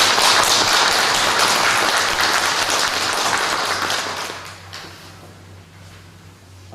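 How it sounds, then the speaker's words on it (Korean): A church congregation gives a loud round of applause that fills the room and then tapers off, fading to quiet after about five seconds. "새로운 부인회장님 수고해 주시, 많은 은혜와 함께 수고해 주시기 바라면서 박수 한번 드리겠습니다."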